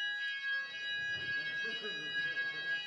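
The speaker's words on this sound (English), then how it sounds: "So this is a fire alarm." A fire alarm test sounding at a conference hall during a talk on Node.js, heard as a steady high electronic tone underneath someone talking.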